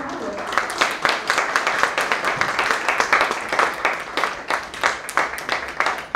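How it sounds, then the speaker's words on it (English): Audience applause at a student union election hustings, steady crowd clapping with dense repeated claps throughout, moderately loud, with talk-like texture blended in. "So I'd like to give a round of applause to the President John Howard."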